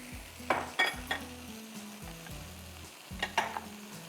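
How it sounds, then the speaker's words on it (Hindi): Mutton pieces frying in a pan, a steady close sizzle with bursts of stirring and scraping against the metal, nearby and moderately loud, no talking. "मटन डाल के थोड़ा सा भूनेंगे"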